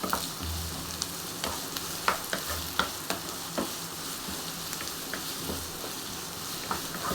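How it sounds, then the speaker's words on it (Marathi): Cluster beans roast in a pan over medium gas, a steady low sizzle broken by frequent sharp scrapes and taps of stirring, with no voices. "मीडियम गॅसवरतीच मी याला भाजून घेणार आहे"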